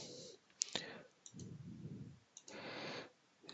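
A computer mouse clicks several times at close range, crisp and quiet, mixed with short stretches of low voice and background murmur.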